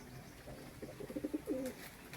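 A homing pigeon coos softly with a few low, throaty notes over faint background noise.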